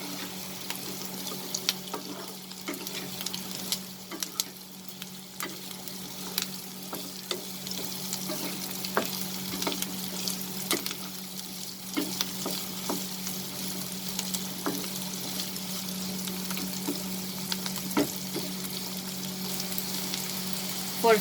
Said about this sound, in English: over high flame, I will saute the potatoes with the onion